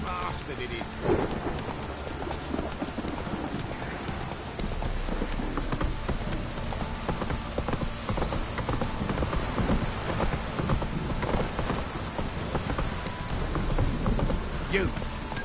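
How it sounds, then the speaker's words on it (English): Heavy downpour in the Witcher 3 game world, a dense continuous hiss of rain with occasional low rumbles of thunder and hooflike knocks, a voice talking faintly underneath. "This downpour's a bastard"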